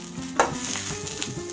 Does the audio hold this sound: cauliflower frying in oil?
yes